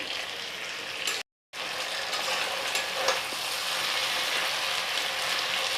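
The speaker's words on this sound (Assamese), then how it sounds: "এতিয়া মই গৰম পানী দিম আৰু অলপ সময় এনেকৈ হাই ফ্লেমত ভাজিম।" Chicken curry frying hard over a high flame hisses and sizzles steadily and loudly up close, with faint stirring scrapes and a brief cut to silence early on. No one speaks.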